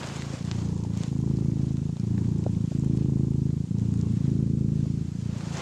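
A cat purrs loud and close, with the microphone held right against it, making a steady low rumbling throb that continues unbroken for several seconds with no voices.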